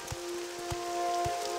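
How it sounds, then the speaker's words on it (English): Rain begins falling in the Morrowind video game (OpenMW with mods), a steady soft patter of drops with a few low thumps, under a constant tonal hum. "Oh, it's going to rain."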